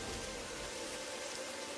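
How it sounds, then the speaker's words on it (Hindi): Steady rain falling, heard as a soft, even hiss of drops with no other sounds. "बिरजू और उसका परिवार उस पेड़ के नीचे बैठकर बारिश के रुकने और सुबह होने का इंतजार करते हैं।"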